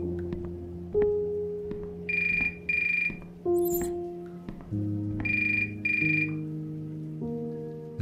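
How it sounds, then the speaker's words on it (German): A telephone rings in the video game The Uncertain: two double bursts of electronic ringing, repeated twice, loud over a soft sustained musical background, with no talking. "Oh, Telefon."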